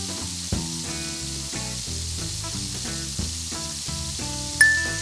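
A smashed burger patty sears on a hot griddle with a constant close sizzle and hiss. Occasional metallic clinks and a bright spatula scrape cut through, and a faint tonal hum sits underneath.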